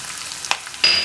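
Red chilies dropped into hot oil for Andhra-style tamarind rice, frying with a steady sizzle, a quick stir scrape midway, then a louder burst of crackling near the end, close up with no voices.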